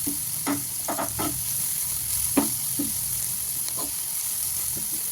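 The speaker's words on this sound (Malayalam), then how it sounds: "സവാള ഒന്ന് വഴറ്റി കൊടുക്കാം നന്നായിട്ട്" Onions and green chilies sauté in hot oil for a chicken curry, giving a steady close sizzle with scattered scraping stirs of a spoon against the pan.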